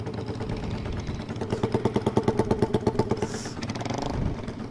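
Race motorcycles, a Honda Vario against a Yamaha Mio Soul, rev loudly nearby, a pulsing engine throb building into rapid rhythmic thumps before fading into a rougher drone.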